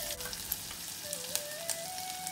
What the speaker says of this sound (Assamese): তেল গৰম হৈছে, কলা সৰিয়হ দি দিছোঁ, সৰিয়হৰ ওপৰতে আদাখিনি দি দিছোঁ